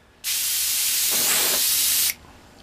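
A paint spray gun hisses in one steady burst of about two seconds, loud and close, as it sprays over the edge of a part during a Yamaha FZR cafe racer restoration, with no talk.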